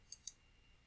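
Two quick, light computer mouse clicks, sharp and close, about a tenth of a second apart, followed by near silence.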